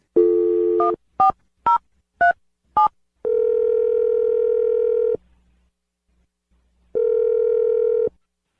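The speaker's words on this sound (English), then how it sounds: "So dial the phone number right now." A landline telephone is being dialed for a radio show call: a steady dial tone, then five short touch-tone beeps in quick succession, followed by two long ringback tones separated by a pause, with no voices.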